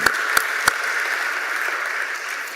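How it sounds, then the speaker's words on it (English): An audience at a graduation ceremony gives a dense, sustained round of applause. A few sharp, louder claps stand out near the start, and the sound eases slightly toward the end. "we want to give them one big round of applause as we finish up here"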